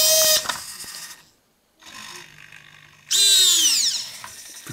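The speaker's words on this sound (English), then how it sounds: "The claw servo is giving a little bit of a rattle, but everything else is smooth and quiet." Robot arm servos whine in short bursts close up, with rising and falling motor pitch, separated by a moment of silence and a quieter buzzing stretch, the claw servo adding a light rattle.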